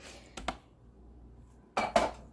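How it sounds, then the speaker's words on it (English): Utensil knocking against a bowl while pumpkin cheesecake filling with vanilla is mixed, two short pairs of clinks separated by a quiet pause. "Let me mix that again."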